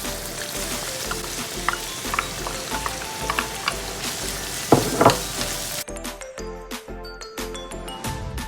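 Turkey bacon, garlic and sweet peppers fry in rendered fat with a constant crackling sizzle, punctuated by light clinks of a utensil against the pan.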